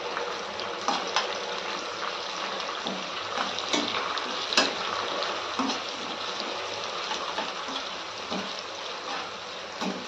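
Onions sautéing in a pan for Maharashtrian kande pohe give a steady, close sizzle, with soft scraping from stirring now and then and no voices.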